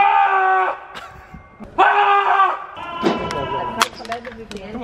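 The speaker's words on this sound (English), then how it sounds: "He's gonna scream." A man screams as loud as he can during a professional basketball media day, with sustained strained yells in several bursts, close and loud, followed by clattering and thumps.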